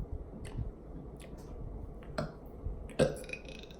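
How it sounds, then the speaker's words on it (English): Burps from a person who has been drinking Sprite come as a few short, quiet gulping belches scattered over a few seconds, with sharper clicks near the end and no talking. "Look at her trying to burp all come in."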